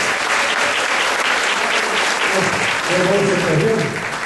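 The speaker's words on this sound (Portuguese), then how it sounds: "Uma salva de palmas para Jesus." Church congregation applauding in a sustained, dense burst of clapping, with voices and a faint musical tone rising over the clapping toward the end.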